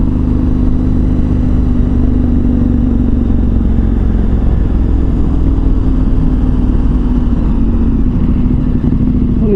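A KTM 1290 Super Adventure R motorcycle rides through Vilnius at night, its engine droning loud and close with a steady mid-pitched hum and wind rush throughout, no voices.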